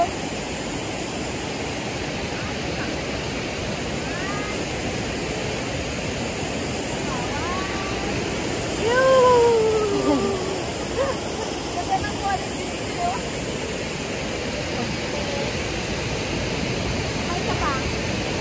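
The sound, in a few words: flowing water coming from the mountain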